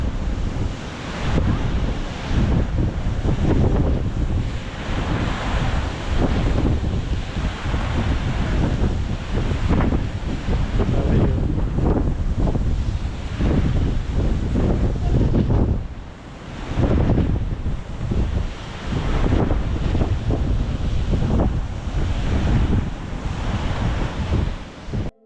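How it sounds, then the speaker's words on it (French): Sea waves breaking continuously on the shore at Cap d'Agde on the Mediterranean coast, a loud, steady roar of surf with rolling surges, roughened by wind buffeting the microphone, with no voices. "Je vous laisse profiter un peu de la mer et de son bruit si agréable,"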